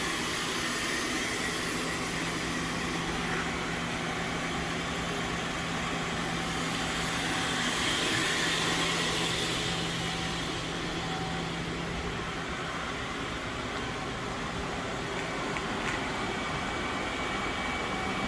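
A new 2018 Southwestern Industries Trak LPM vertical machining center runs a program with a steady, loud mechanical drone and a constant whine that swells slightly midway and never stops.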